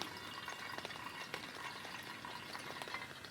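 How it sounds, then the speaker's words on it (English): White gas camping fuel trickles into a lantern tank with a thin, continuous hissing splash and a few small clicks, close and fairly quiet. "this is white gas I'm putting in it"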